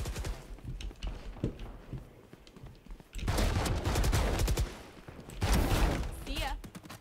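Judge shotgun fire in Valorant deathmatch, heavy booming blasts arriving in two loud bursts among quieter game noise, with a voice talking faintly through it.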